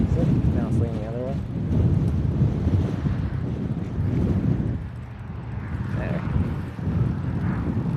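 Gusty wind buffets the microphone outdoors beside a road with a continuous low rumble that rises and falls, while faint voices come through underneath.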